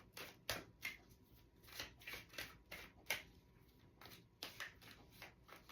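A deck of gateway oracle cards is shuffled by hand, a series of quick, crisp riffling bursts in an irregular rhythm, close and fairly quiet with no talking.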